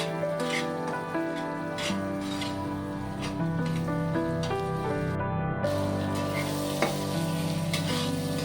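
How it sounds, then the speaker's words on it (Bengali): Poppy seed paste fries with spices in oil, a steady close sizzle with spatula strokes stirring through it and a brief gap midway, with no talking. "পোস্ত দিয়ে আবার ভালো করে কষিয়ে নেব।"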